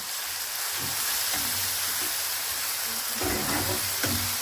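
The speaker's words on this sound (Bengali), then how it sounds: "এগুলোকে আমি লাল লাল করে ফ্রাই করে নেব।" Spices with ginger paste, salt and turmeric fry in a pan for a chicken dish, a steady soft sizzle with occasional low stirring scrapes and knocks.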